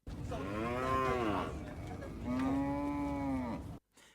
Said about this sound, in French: cap sur le parc à bétail de Sabaliboukou, en commune 5 du district de Bamako